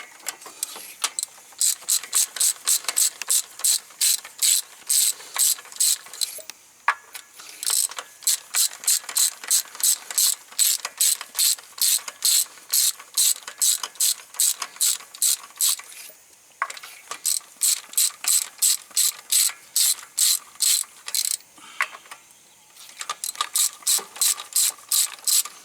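A hand ratchet loosens spark plugs deep in a car engine during an engine flush job, its pawl clicking in fast, steady bursts of rapid ticks with short pauses between strokes, close and crisp throughout with no talking.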